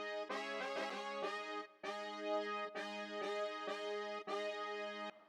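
Synth preset Olympic 4 Voice from Analog Lab, modeled on the Matrix 12, playing five sustained chords in a steady rhythm, bright and harmonically rich, alone with no voices.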